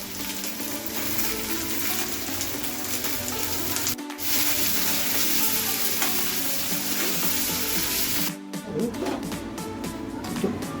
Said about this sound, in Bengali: এখন এই পেঁয়াজগুলোকে আমি বেরেস্তার মতো ভেজে নিচ্ছি।